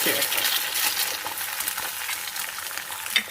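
Eggs sizzling in hot cooking oil in a stainless steel pan, a steady close crackling hiss with small pops and spatters throughout.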